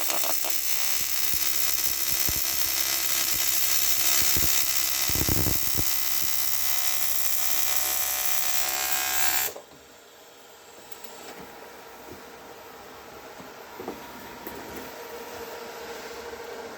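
A welder runs steadily on a cooling system part of a Volvo 950, a loud continuous broadband buzz and hiss that cuts off sharply about two-thirds through, leaving quieter workshop background with a few small knocks.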